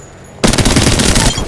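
Video game machine gun fire bursts in suddenly after a short quiet lead-in. It is a loud, rapid, close-up stream of rounds with a dense rattling rhythm that runs to the end.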